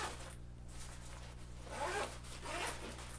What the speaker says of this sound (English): This outside zipper's here.